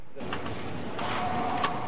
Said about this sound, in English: What's emerging from this printer is the heart of a mouse.